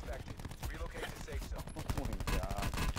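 Rapid gunfire in a first-person shooter on the Alcatraz map, dense bursts of shots layered over a loud busy game mix, with a player's voice talking over it.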